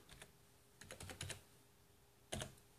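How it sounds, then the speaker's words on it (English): Soft clicks on a computer keyboard come in quick short bursts with pauses between them, faint and close, with no talk. "You're going to type in capital E."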